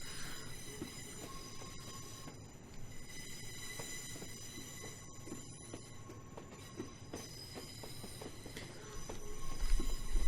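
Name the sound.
diesel locomotive train from a video game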